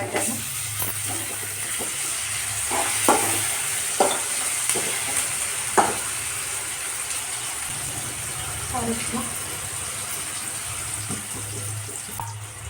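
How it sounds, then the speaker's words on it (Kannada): Spiced food fries and gets stirred in a pan at home, a steady sizzle broken by scraping spoon strokes and occasional clinks, with a voice speaking faintly at times. "ಫ್ರೈ ಅಲ್ರಿ ನೀಟಾಗಿ ಹಸಿ ವಾಸನೆ ಹೋಗಂಗ"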